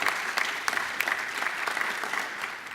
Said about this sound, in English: So give yourselves a nice round of applause.